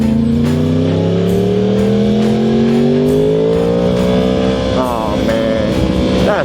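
A motorcycle accelerates hard up a highway entrance ramp, its engine note close and loud, climbing steadily in pitch over several seconds before a brief shift near the end.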